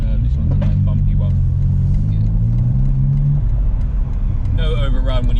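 A BMW G81 M3 Touring with a Remus exhaust rolls along a bumpy road, its deep engine drone and rumble steady and loud inside the cabin while a person talks over it.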